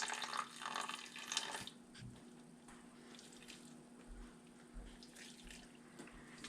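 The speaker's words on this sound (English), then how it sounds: "I'm gonna add a half a cup of water." Water runs from a kitchen tap while half a cup is measured for a family meal, a steady splashing stream that is strongest at the start and then settles into a quieter trickle, with no talking.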